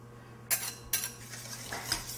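A whisk scrapes and taps against a metal pan while beating egg yolks for lemon curd, with sharp clinks over a low continuous hum, close and without talk.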